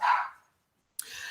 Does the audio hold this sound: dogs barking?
yes